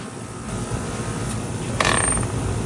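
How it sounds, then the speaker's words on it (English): An HVAC compressor low on refrigerant, cycling off and on at the low-pressure switch, runs with a steady close mechanical rattle and hum, with a short louder clunking surge near the end. "if you hear your compressor turning off and on like this"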